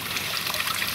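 Water trickles and laps steadily around a 1/32 scale Type VII radio-controlled model submarine floating for trimming, a continuous close, hissy wash with no talk.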